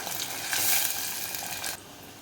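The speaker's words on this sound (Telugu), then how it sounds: "తాలింపు వేస్తున్నాను." Tempering spices for sambar sizzling in hot oil in a pan, a soft continuous crackle that swells midway and then drops to a quieter hiss near the end, with no voices.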